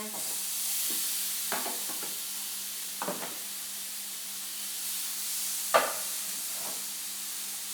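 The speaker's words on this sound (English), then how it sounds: "just cooking the tempeh on the other side of the pan" Tempeh searing in a pan beside onions, a steady soft sizzle with several brief scraping stirs and taps of a utensil, fairly quiet and close.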